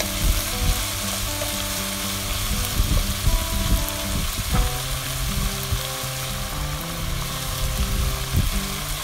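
Julienned red chillies with seeds removed fry with vegetables for chow mein, a dense, loud, continuous sizzle with crackling bursts and occasional clinks of stirring, heard up close and alone.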